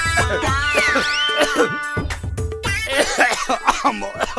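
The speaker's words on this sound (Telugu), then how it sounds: "నశం పీల్చిన వాళ్ళు తుమ్మాలి గాని మీరేంది దగ్గుతుండ్రు?" A man coughs repeatedly after inhaling snuff, several harsh, loud hacking bursts with throat clearing in quick succession, close to the microphone.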